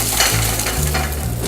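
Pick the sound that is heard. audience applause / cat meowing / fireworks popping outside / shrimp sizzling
shrimp sizzling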